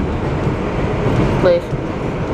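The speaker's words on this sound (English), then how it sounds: "And there's another train of R188 converted cars on the express track." An R62A subway train on the IRT Flushing line gives a steady, loud rumble of wheels and motors throughout, with a short squeal midway and a brief spoken word over the noise.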